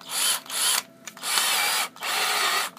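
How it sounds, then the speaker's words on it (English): An 18 volt Firestorm cordless drill runs on a 12 volt battery, whirring loudly in three bursts separated by brief stops, alone and close. "So we have an 18 volt Firestorm drill"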